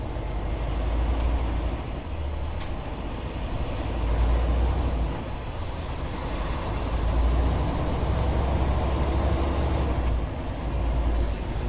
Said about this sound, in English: get this truck on down the road